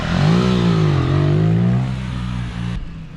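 Motorcycle engine revved hard for a clutch-pop wheelie launch during a first stunt training session, loud and close, with a rising and falling growl that holds high for two seconds, then drops to a lower idle before cutting off.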